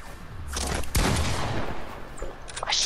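Gunfire in a video game shooter: a loud burst of rapid shots and a sharp blast near the middle, with a brief shout at the end.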